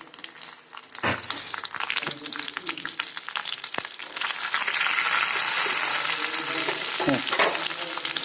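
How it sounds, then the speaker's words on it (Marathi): Garlic, urad dal and sesame seeds roast in hot oil while being stirred, giving a steady loud sizzle with scraping stir strokes throughout and little else. "ह्याला थोडं हलवून घेते कमी कमी चांगलं भाजू देते"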